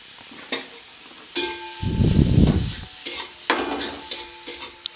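Grated coconut goes into a wok over a low flame: a few sharp metallic clinks, then a soft rushing scrape of the coconut being stirred around the pan, followed by more clatter.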